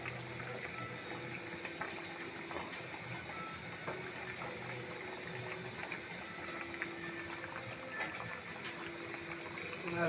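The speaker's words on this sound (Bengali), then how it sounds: "এই পর্যায়ে মাছগুলো দিয়ে দিচ্ছি এক এক করে বিছিয়ে।" Rohu fish pieces laid into a pot of potato curry, which bubbles in a soft, steady simmer. The sound is faint and close, with a few small splashes and no talk.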